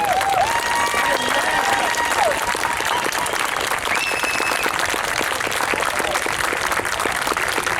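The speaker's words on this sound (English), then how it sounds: "let's stand and give him the applause" An audience at a Chicago urban issues presidential series event with Dr. Ben Carson breaks into sustained, loud applause, a steady roar of clapping with a few whistles and cheers over it.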